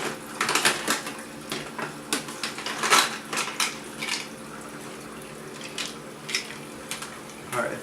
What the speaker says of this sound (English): let's give me a handy ice scoop.